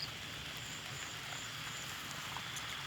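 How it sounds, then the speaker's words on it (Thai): Steady rain falling in strong wind, from a storm passing over a jujube orchard, a constant broadband hiss with scattered drops, moderately loud and unbroken throughout. "ฝนตกลมแรงครับ"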